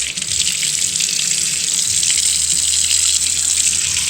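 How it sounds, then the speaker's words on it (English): Cold tap water runs steadily into a sink while an avocado seed is rinsed, a continuous loud hissing gush with no pauses. "I'm going to rinse it in cold water"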